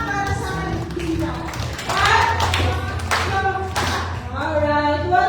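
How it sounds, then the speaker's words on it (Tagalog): Congregation at a Foursquare Gospel Family Church clapping in welcome, a dense burst of hand claps under talking voices, with music or a low hum sustained beneath. "Isang limang palakpak, alam na palakpak para sa kanila."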